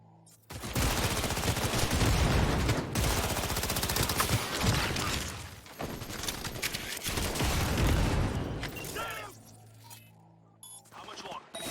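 Heavy gunfire in the game Cyberpunk 2077 during a firefight against an attacking squad, loud sustained automatic bursts and shots with metallic clinks for about ten seconds before tapering off, with voices shouting among them.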